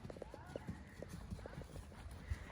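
Horse hooves beat a rhythmic, quiet clip-clop on the footing of a riding arena, steady and somewhat distant, with a person talking over them.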